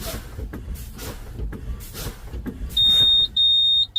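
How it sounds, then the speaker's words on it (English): A continuous high-pitched truck air brake warning buzzer sounds in two long bursts near the end, after quiet clicks and rustling from inside the cab. "Our warning light and warning buzzer is on."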